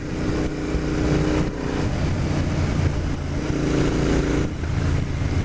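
A Royal Enfield Interceptor 650 motorcycle cruising at about 4,000 RPM, a steady droning engine note with wind rush, loud and constant, easing slightly at a couple of points but holding a continuous tone.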